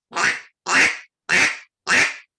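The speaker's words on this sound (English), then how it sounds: "Well, a simple quack, like you said, just one little quack." Duck call blown for waterfowl hunting, giving four short raspy quacks evenly spaced about half a second apart, loud and close with silence between.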